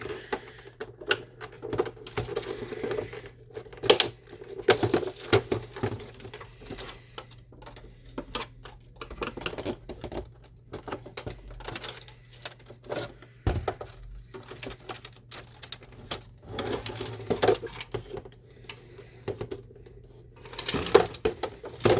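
A flathead screwdriver prying apart the plastic casing of an HP Photosmart B210a printer: irregular clicks, snaps and scraping plastic rattles scattered over a low steady hum, moderately close, with no speech.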